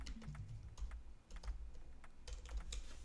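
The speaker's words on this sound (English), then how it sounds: "how do you write John McLean?" A computer keyboard clicks quietly in short scattered bursts of keystrokes with pauses between, faint and close, with no one talking.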